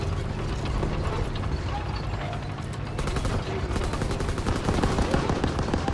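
Video game gunfire in Call of Duty WWII, with rapid continuous bursts and clattering mechanical rattles over dense battle noise, and no clear speech.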